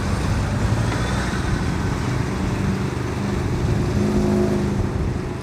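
A car bought at auction runs hard on a race track, its engine a steady, loud drone with broadband road and wind roar throughout and no clear rise in revs, heard close with no talking.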